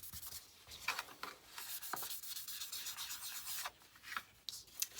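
Hand sanitizer rubbed by hand across a surface to wipe off marks, a soft dry scratchy friction in short repeated strokes, close and fairly quiet, with no talking.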